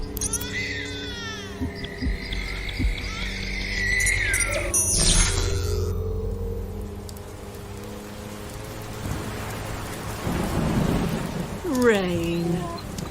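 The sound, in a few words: rain and thunder sound effect in radio drama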